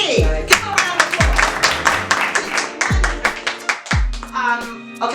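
Hands clap along under loud music with deep booming bass hits, and a voice talks over the rhythm.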